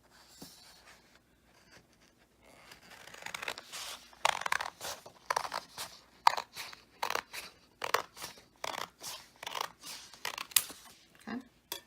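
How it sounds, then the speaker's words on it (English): Scissors cut down the center of a paper packet in a classroom setting, a series of crisp snipping and crunching strokes, soft at first and then growing louder. "Take your packet, cut it down the center so you have two now."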